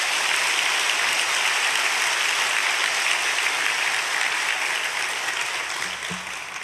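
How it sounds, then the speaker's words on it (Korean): A church congregation at Suyeongro Church claps steadily and warmly, a dense, even wash of applause that fills the room and tapers slightly toward the end. "여러분 한번 뜨거운 박수로 환영하시겠습니까?"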